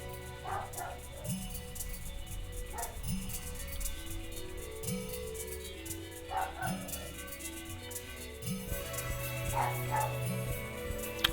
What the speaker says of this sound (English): Sorry if you can hear the dog